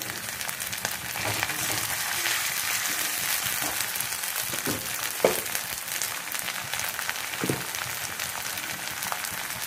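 Onion and garlic paste frying in a pan with browned onions for ridge gourd curry, a continuous close hiss and crackle with a few soft clinks of a spoon, steady and fairly quiet throughout.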